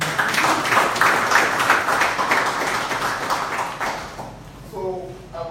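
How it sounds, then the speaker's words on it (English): An audience at a corporate social responsibility event applauds in a dense burst of many hands that thins out toward the end, where a voice begins speaking faintly. "clap for my hand"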